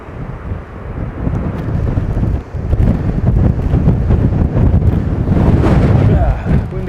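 Strong wind blasts across the microphone on a coastal footpath, a loud continuous low roar with gusty surges that barely let up.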